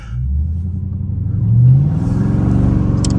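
A Dodge Scat Pack revving hard while drifting, its loud throaty engine climbing in pitch, then a shift into second gear followed by a strong rising roar, close and without speech.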